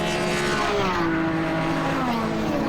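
Racing cars scrap at the back of the pack in a BARC race, engines droning loudly and continuously with rising and falling pitch sweeps as they pass, close and sustained throughout.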